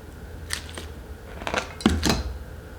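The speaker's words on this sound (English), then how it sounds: "I'm gonna just chop it like here." A few crisp snips as a houseplant stem is cut back, with sharp clicks spaced irregularly and a close, quiet room around them.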